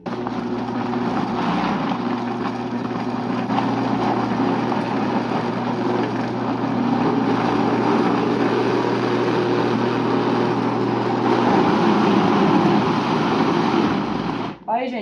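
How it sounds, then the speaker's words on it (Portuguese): A blender whirs steadily, blending homemade ora-pro-nóbis seasoning, a continuous motor drone running close for most of the stretch before cutting off abruptly at the end. "agora eu vou bater tudo"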